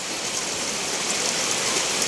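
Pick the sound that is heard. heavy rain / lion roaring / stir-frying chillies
heavy rain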